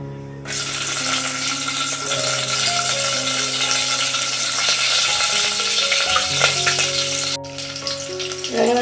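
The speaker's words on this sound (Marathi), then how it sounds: "आता लसूण आणि कढीपत्ता टाकते" Garlic and curry leaves hit hot oil with a sudden loud sizzle that crackles steadily, with background music playing underneath.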